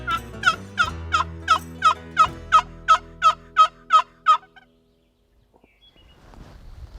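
A wild turkey in leafy spring woods in Wisconsin calls in a rapid series of about a dozen evenly spaced, clear notes, loud and close, then falls silent. A faint rustle follows.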